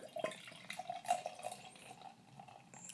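FiftyFifty Apple Brandy Eclipse beer is poured, a faint, quiet trickle of liquid with small splashes and drips, soft and close.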